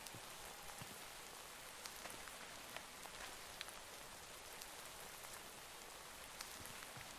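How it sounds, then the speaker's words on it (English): Heavy rain falls in the Minecraft world of Terrafirmacraft, a continuous soft hiss of drops on surfaces with scattered crisp ticks, steady and low in level throughout. "we got some heavy rain coming down here now."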